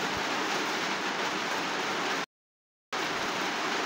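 Steady rain falling outdoors, a dense, even hiss filling the scene, broken by a brief total dropout of silence before the wash resumes at the same loudness.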